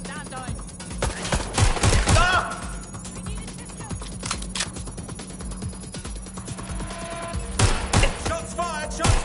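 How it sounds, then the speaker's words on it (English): Bursts of gunfire in the Watch Dogs video game, sharp cracking shots in irregular clusters, some rapid volleys, set against background game sounds at moderate loudness. "Shots fired! Shots!"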